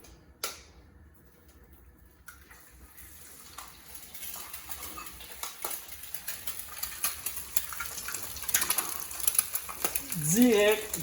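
Eggs fry directly in rendered bacon and sausage fat for a big breakfast. A sharp crackle starts the sizzle, which then builds into uneven popping and spitting while a voice speaks over it.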